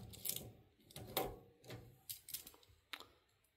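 A 2004 Innovation elevator car operating panel key switch being turned to stop, heard as a handful of sharp mechanical clicks and taps scattered through a few quiet seconds, fairly close.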